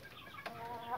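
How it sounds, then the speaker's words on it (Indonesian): Chickens eating feed give a brief, soft cluck amid faint pecking and rustling, quiet and close. "Maka ayam itu akan seperti ini teman-teman. Lahap sekali makannya."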